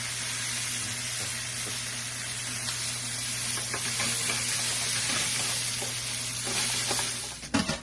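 Shrimp sizzle and fry in a hot pan: a steady, close crackling hiss that goes on without a break, with faint stirring scrapes, a low kitchen hum underneath, and a few knocks near the end.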